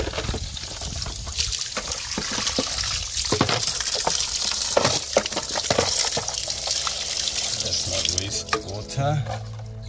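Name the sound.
running water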